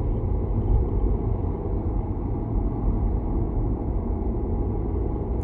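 A Volvo XC40 accelerates hard to overtake, its engine giving a steady, close, low rumble mixed with road noise that holds an even loudness throughout, with no voices.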